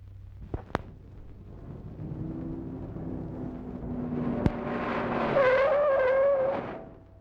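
A 1950s car brakes hard, its tires giving a rising squeal that holds for a second or two before the car settles, with engine rumble underneath and no voices.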